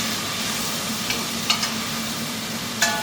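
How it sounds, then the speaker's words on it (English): Vegetables sweat in a little oil in a pot for vegetable stock, giving a soft, steady sizzle with a few faint pops, close and alone. "now I've got my vegetables sweating. I've got a little bit of oil in there."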